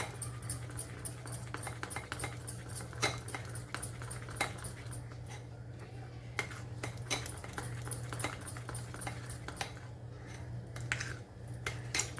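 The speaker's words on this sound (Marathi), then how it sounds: "गव्हाचं पीठ टाकून सर्व मिक्स करून घ्यायचं व्यवस्थित" Wheat flour and melted mixture are stirred into a smooth batter in a bowl, with soft irregular scraping and tapping of a utensil against the bowl, quiet and close over a low steady hum.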